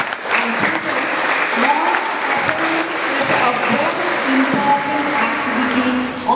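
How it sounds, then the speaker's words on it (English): A school assembly of junior students breaks into loud, close applause, a dense, energetic round of clapping lasting several seconds, with voices talking and calling out beneath it. "I think they need one more round of applause"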